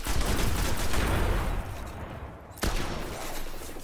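Gunfire from a shotgun in the Destiny alpha shooter game, dense and continuous with heavy low-end blasts over about four seconds, a brief dip near the end before the firing resumes loudly.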